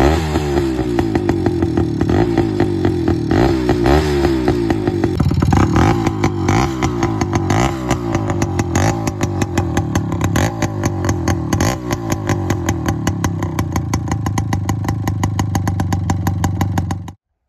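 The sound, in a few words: Suzuki Samurai motorcycle engine revving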